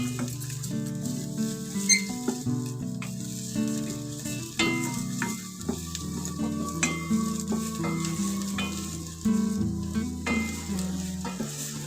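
Green masala for chicken sautéed and stirred in hot oil, a steady frying sizzle running under prominent background music throughout.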